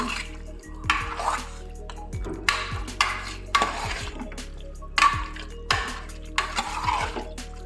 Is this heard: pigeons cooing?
no